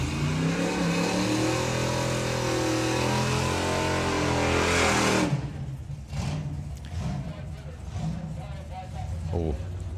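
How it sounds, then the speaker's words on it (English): A black GTO drag car at Santa Pod Raceway, its engine sticking out of the bonnet, roars loudly and steadily for about five seconds before cutting off, followed by quieter crowd noise and commentary. "So the black GTO coming underneath the tower."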